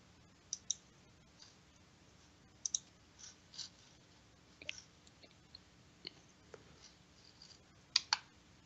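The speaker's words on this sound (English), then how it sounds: "you're typing stuff in" Quiet computer keyboard typing during a game warm-up round, with sparse, irregular clicks and short bursts of keystrokes spread across the stretch, a faint low hum underneath and no talking.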